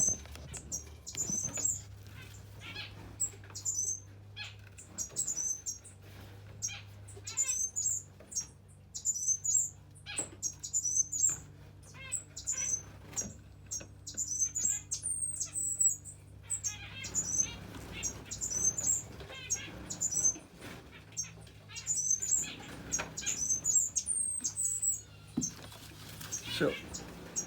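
Cuban grassquits and melodious finches being readied for show, giving frequent high chirps and tweets with soft fluttering and rustling, close by, while a person talks intermittently underneath.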